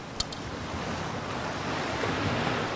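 Steady soft wash of ocean-like rushing noise, as heard when holding a seashell to the ear, continuous and even throughout with a faint click near the start.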